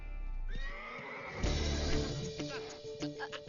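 A horse neighs loudly in a long, wavering whinny on a training ground, followed by shorter snorts and nickers close by.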